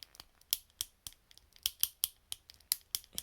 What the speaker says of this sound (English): You can hear that clicking when you turn it